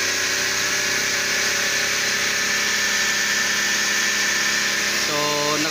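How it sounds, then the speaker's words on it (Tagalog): A Suzuki DA63T multicab's small engine, with a hard-starting fault, runs loud and steady at high revs, a continuous buzzing roar that holds throughout with a slight change near the end. "So nag-wild yung makina guys."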